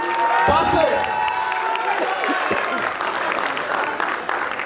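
A stage play audience claps steadily, filling the room with dense applause, with scattered voices and cheers mixed in near the start.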